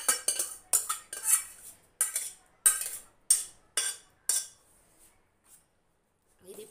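A metal spoon clinks and scrapes against a pot while cooked moong dal and tomato curry is ladled into a serving bowl, about ten sharp, close strokes in quick succession, then a few fainter taps before a quiet pause.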